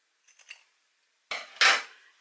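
Scissors snipping tote bag fabric at a diagonal beside the seam, a few faint quick snips followed after a pause by two louder, crisper cuts close by.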